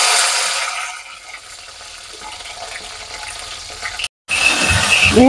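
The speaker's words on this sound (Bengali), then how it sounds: "আমি ভেন্ডিটা এখন ভাজতে নিতেছি ভালো করে" Okra fries in hot oil in a wok with a loud, steady sizzle that briefly cuts out, then returns with a few bright clinks, close and continuous, with no talk.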